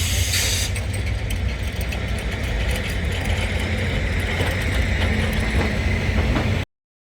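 Indian Railways train running on rails between Allahabad and Lucknow, a steady dense rumble and rattle of wheels and carriage held at constant loudness throughout, with faint metallic clanks and no voices.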